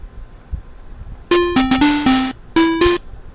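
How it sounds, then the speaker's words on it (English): An 8-bit chiptune plays the 'shave and a haircut' rhythm: five quick buzzy square-wave notes, a short pause, then two final notes, with a soft drum thump just before the tune begins. "That's what shaving a haircut sounds like with drum beats."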